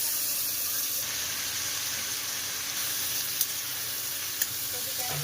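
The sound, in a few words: cauliflower frying in a pan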